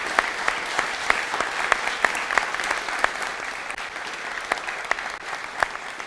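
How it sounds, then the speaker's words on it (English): An audience at a graphics conference claps for the finalists in steady, dense applause that stays even in volume for several seconds, with no talking. "let's give a huge applause for these wonderful finalists."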